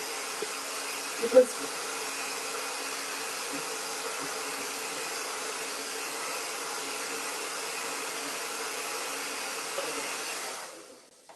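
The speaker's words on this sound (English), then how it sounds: "I'll just quickly pop the hairdryer, unfortunately, onto it again." A hair dryer blows steadily on freshly painted Christmas decor made from wood offcuts, a continuous whirring hum that cuts off at the end, with a brief spoken word early on.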